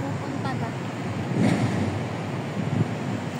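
Steady wind rushes and buffets across the microphone, a broad continuous roar with a few louder gusts.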